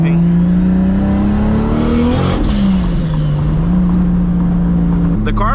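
A loud, close straight-piped Toyota Supra engine drones and revs continuously, its raspy exhaust note rising and falling as the car drives.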